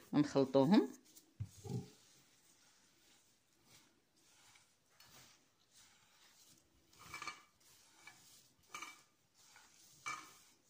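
Cocoa and salt are stirred in a bowl for a peanut pastry, giving soft, scattered scraping and tapping strokes, close but faint, with a voice speaking at the start.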